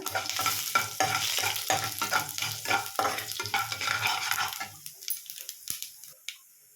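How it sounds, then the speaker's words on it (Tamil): Mustard seeds, urad dal and dried chillies crackle in hot oil for a chutney tempering, a busy run of close popping and spattering with stirring strokes that thins out into a few scattered pops and then goes quiet. "கடுகு பொரிஞ்சதும் நல்லா இந்த உளுத்தம்பருப்பும் நம்ம காஞ்ச மிளகாயும் போட்டுக்கிறேன்"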